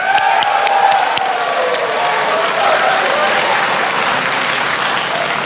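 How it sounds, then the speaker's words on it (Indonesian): A studio audience at a 2014 Indonesian presidential debate applauds steadily and loudly, a dense unbroken wash of many hands clapping that holds for several seconds with faint crowd murmur. "Kita berikan tepuk tangan."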